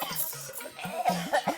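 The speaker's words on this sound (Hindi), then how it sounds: "इतनी ज्यादा खांसी कैसे हो गई" A man in a scene from the TV comedy Taarak Mehta Ka Ooltah Chashmah coughs in a short, rough burst of repeated hacks, close and moderately loud over faint background noise.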